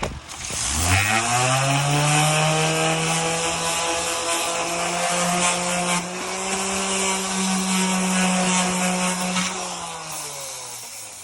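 A power sander with 80-grit paper grinds down an old patio bench, spinning up into a loud, steady motor whine that holds for about ten seconds before winding down.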